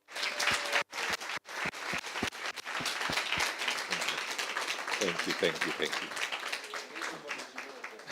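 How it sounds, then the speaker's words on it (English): Audience applause at a debt-management master class, a dense burst of clapping with sharp claps at the start, then the room's applause rolling on steadily while a voice speaks over it. "First of all, a round of applause."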